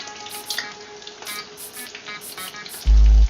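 Okra pieces frying in hot oil, a steady bright sizzle with a few soft stirring knocks, then a brief loud low rumble at the very end; no voices.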